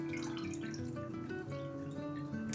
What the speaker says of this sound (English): I'm going to go ahead and fill this up with some water.